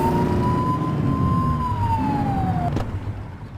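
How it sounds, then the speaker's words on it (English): A video game police siren from The Precinct wails in a single long rising-and-falling tone, loud and close, then cuts off abruptly, leaving a low engine hum. "Get on their tail and flip the siren."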